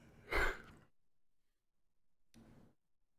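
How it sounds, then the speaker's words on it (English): A person yawns: one breathy, drawn-out exhale close to the microphone, followed after a pause by a softer, shorter breath. "So this yawn right here."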